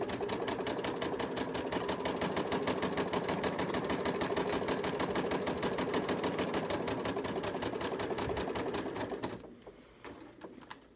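A sewing machine stitches quilt fabric in a fast, even mechanical chatter, running steadily and close for several seconds before stopping.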